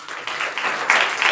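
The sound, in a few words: congregation clapping hands in church service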